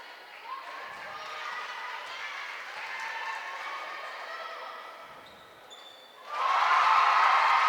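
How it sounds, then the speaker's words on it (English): A school crowd at an All Ireland Schools League basketball final bursts into a loud, sustained cheer near the end, rising sharply out of steady arena murmur and court noise. "Big cheer from the Palmerston School crowd."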